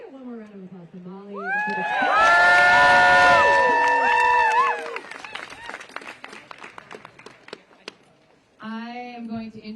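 A crowd at a union protest over Washington Post workforce cuts bursts into cheering and whoops for someone, then settles into steady clapping that tapers off before a voice speaks at the end.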